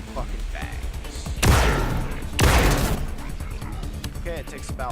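Two loud, close gunshots from a video game weapon, about a second apart, each with a sharp crack and a lingering decaying tail, over faint background game sounds.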